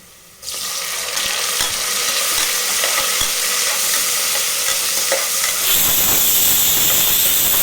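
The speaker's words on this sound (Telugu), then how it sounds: "టమాటా ముక్కలు మెత్తబడేంత వరకు అయితే ఫ్రై చేసుకోవాలి" Onion and chopped tomato pieces frying in a pan for mutton biryani: a loud, steady sizzle and hiss with stirring scrapes that suddenly intensifies toward the end, with no voices.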